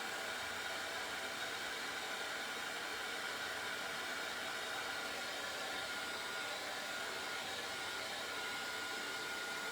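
A heat tool blows steadily and close for the whole stretch, drying a tea bag folding card with a shimmer finish; a constant, loud broadband whoosh with no pauses and no voices.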